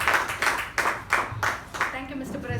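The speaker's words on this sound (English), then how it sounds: "with a huge round of applause, please help me welcome Toastmasters" Audience clapping to welcome a Toastmasters speaker at club meeting #1210, a handful of spaced, fairly close bursts of hand claps that fade as a voice begins to talk.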